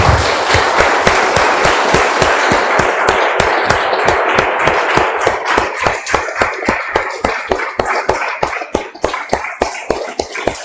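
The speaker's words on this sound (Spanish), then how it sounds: "Vamos a un aplauso, vamos al Señor." Rhythmic congregational clapping during a church service, loud regular beats at a steady tempo over a crowd's wash, continuing for about ten seconds with no speech.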